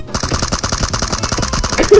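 Heavy automatic gunfire in PUBG Mobile rattles out in rapid, loud, close bursts, a fast unbroken stream of shots with no voices.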